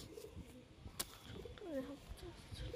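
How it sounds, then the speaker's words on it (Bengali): A red-chested single male pigeon coos softly with a few low, rolling calls amid faint background noise and light handling sounds. "খুবই ভালো কবুতর, লাল ছাতি নর কবুতর, সিঙ্গেল আছে কবুতরটা।"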